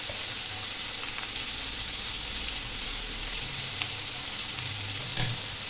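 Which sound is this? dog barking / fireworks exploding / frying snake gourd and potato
frying snake gourd and potato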